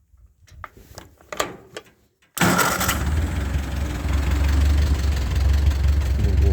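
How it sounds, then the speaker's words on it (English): A tractor engine cranking and catching after a few quiet knocks and faint sounds, then settling into a steady, loud, rumbling idle nearby in a snowy outdoor setting. "I'm gonna start the tractor."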